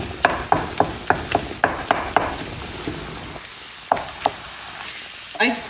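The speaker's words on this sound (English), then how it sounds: "I've added a pound of sweet Italian sausage, and I'm just trying to get it broke up into smaller pieces." A pound of sweet Italian sausage sizzles in a pan with reduced onions and mushrooms, as a spatula chops and breaks it up in a run of sharp rhythmic taps, then a few slower scrapes, all close by with no voices.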